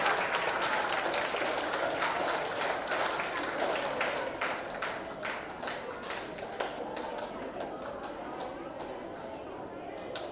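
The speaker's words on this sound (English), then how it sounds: "Let the clapping continue." An audience of schoolchildren at a school event claps continuously, a dense rattling applause under scattered talk that thins slightly toward the end.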